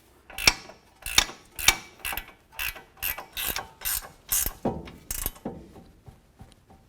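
A ratchet wrench tightens a nut on the lower ball joint of a 2007-14 Cadillac Escalade in a series of close, crisp clicking strokes, about a dozen in quick rhythm, with no voice over them.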